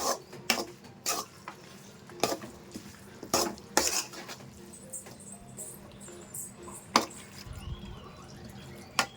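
A spoon stirs chicken in a metal pot for a chicken gravy, clinking and scraping against the sides in repeated sharp knocks over a soft sizzle.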